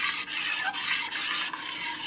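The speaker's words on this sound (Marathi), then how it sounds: "आणि आता ह्याला हलवून घ्यायचं चांगलं. मिक्स करायचं जसं आपण लेमन ज्यूस बनवतो तसं." Homemade pineapple juice stirred in a container, a continuous close swishing and scraping with short rhythmic breaks as the spoon turns.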